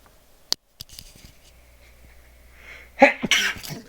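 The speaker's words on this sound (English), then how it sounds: "I'm going to sneeze." A single sharp sneeze bursts out near the end, preceded by a few quiet clicks and a soft intake of breath in an otherwise quiet room.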